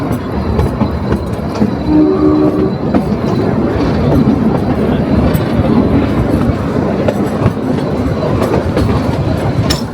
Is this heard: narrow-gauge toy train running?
yes